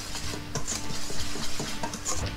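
Baking powder and salt being mixed into dry ingredients for puto flan in a bowl, a quick run of rhythmic scraping and light clinking stirs, close, continuous and without talk.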